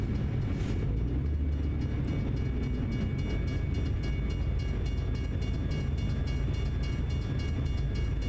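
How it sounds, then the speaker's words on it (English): A passing train in the American Truck Simulator game rumbles steadily, with a low, continuous rolling drone and faint wheel clatter holding at an even level throughout, no voices over it. "Oh, there's a train. There's a train coming."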